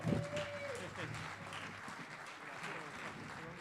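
Applause at an Italian poetry award ceremony, a brief wash of crowd clapping under a speaking voice, fading over a few seconds.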